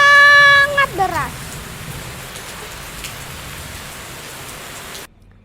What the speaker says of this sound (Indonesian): Suatu hari, hujan turun lebat sangat deras.